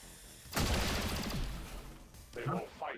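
Sustained burst of video game gunfire during a turn-based tactical shooter battle, a loud dense volley lasting about a second and a half and then tapering, followed by a couple of shorter weapon sounds.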